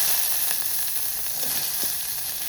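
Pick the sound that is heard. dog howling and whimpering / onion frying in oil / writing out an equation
onion frying in oil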